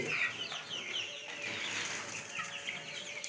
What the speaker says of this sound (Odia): ଦେଖନ୍ତୁ ଏଇଠି ସବୁ ଅଛନ୍ତି କୁକୁଡ଼ା